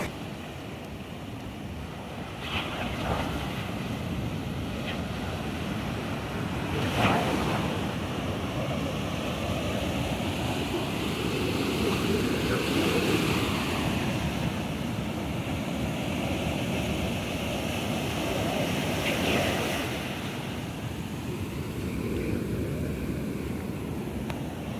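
Sea waves roll onto the beach at Vizag as a continuous, loud, broadband wash, heavily mixed with wind buffeting the microphone, with no speech.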